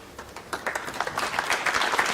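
A ripple of polite applause rises from a snooker crowd at a semifinal match, building over a couple of seconds into steady, moderately loud clapping.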